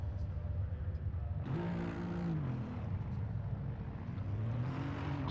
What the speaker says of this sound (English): So we hear the cars fire up.